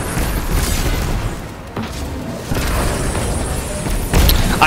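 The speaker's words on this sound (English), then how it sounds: "I just killed myself with my rocket launcher." A rocket launcher blast in the sci-fi shooter Destiny 2, heard as a loud, dense boom with a sharper explosive burst near the end, amid ongoing game noise.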